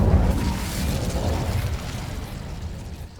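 An Incendio fire spell cast in the Hogwarts Legacy video game bursts out as a dense, whooshing blast of flame that fades into a rumbling roar over a few seconds, with no talking.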